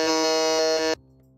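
A quiz game buzzer blares in one loud, steady, harmonic-rich tone for about a second, then cuts off sharply, leaving a faint hum.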